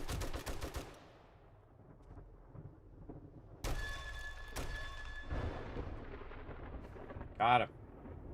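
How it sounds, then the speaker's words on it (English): A thunderstorm in the 7 Days to Die survival game, with sharp thunder cracks and rumbling bursts separated by quieter stretches, plus a brief loud burst near the end. "Kind of dangerous to run out there in the storm"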